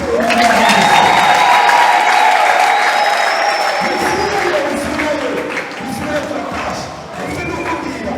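A church congregation at a Sunday service applauds loudly for God in a long, dense burst of clapping and crowd noise that eases gradually toward the end, with voices mixed in.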